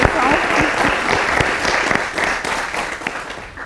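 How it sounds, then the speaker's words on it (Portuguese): An audience at a live technology innovation event in Mozambique applauds a speaker. The clapping is sustained and dense, with a faint voice underneath. "Uma salva de palmas ao Dr. Luís pela sua contribuição"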